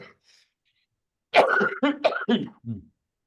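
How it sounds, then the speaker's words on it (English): A short burst of harsh, chesty coughs, four or five in quick succession after a brief quiet pause, close and loud. "I'm just having a coughing fit."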